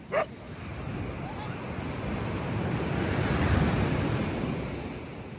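Sea waves rolling onto a beach on a family outing in Dinadiawan, Aurora province: a steady broad wash of surf with wind, swelling slightly, plus a brief sharp sound at the very start.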